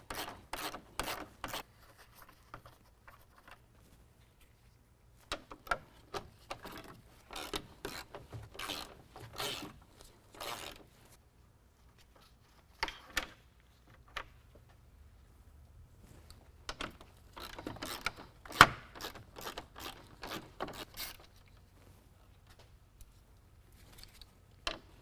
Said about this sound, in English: Now we have 4 10mm bolts that we need to remove off the top.